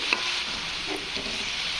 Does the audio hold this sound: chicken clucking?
no